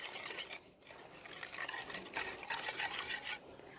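A milk mixture for halwa stirred in a pot, close rhythmic scraping and rubbing strokes repeating steadily for a few seconds.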